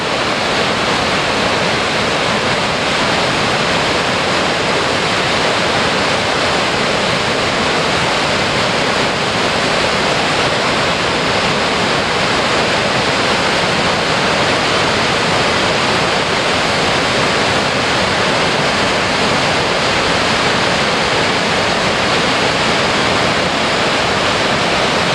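The Boulder River near Big Timber, Montana, rushes into a hole in a sandstone mountain, making a loud, steady, unbroken roar of churning water that fills the whole stretch without any voices.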